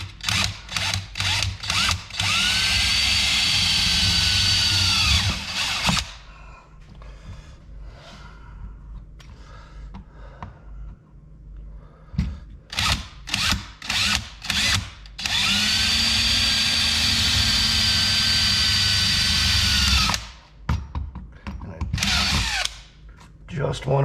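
A power drill fitted with a hole saw bites into wood in long loud whining bursts, pausing between runs with quieter handling clatter and breathing.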